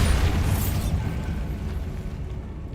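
A Bombarda explosion spell from the video game Hogwarts Legacy goes off as a loud, deep blast that rumbles and slowly fades over a couple of seconds.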